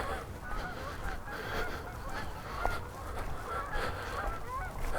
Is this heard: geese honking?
yes